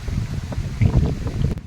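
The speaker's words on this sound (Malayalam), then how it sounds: "എപ്പോഴും കാറ്റ് വീശിക്കൊണ്ടിരിക്കുക." Wind gusts blow steadily at Siruvani in Palakkad during a seasonal windy spell, a continuous buffeting rumble across the microphone with uneven surges.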